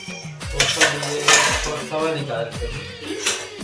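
Dishes and pots being washed by hand in a home kitchen, with repeated metallic clanks and clatters of utensils and cookware striking each other, close and fairly loud, plus faint background voices.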